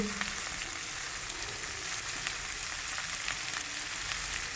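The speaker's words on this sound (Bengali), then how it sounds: "সব সবজিগুলো আমি এরপরে দিয়ে দিয়েছি দিয়ে ভালো করে নেড়ে নেবো" Mixed vegetables, radish, potato, sweet potato, mustard stems, beans, pumpkin and carrot, sizzle steadily in a hot pan as they are stirred, a continuous close frying hiss with no talking.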